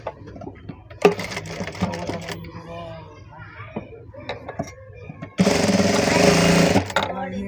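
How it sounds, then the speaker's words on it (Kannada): A sewing machine stitches scrap fabric in two short bursts of rapid whirring clatter, and a person talks in the quiet gap between them. "ಈ ರೀತಿ ಇಷ್ಟು ಸ್ಟಿಚ್ ಮಾಡ್ಕೊಳ್ಳಿ ಅಷ್ಟೇ."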